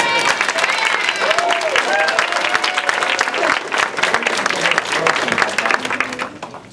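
Audience at an amateur theatre performance giving a round of applause, loud dense clapping throughout with a few voices and cheers mixed in.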